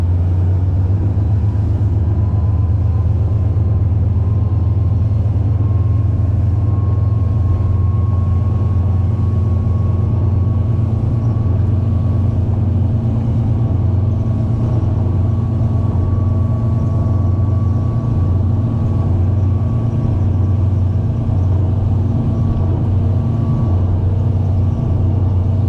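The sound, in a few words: motorboat engine running at high speed on water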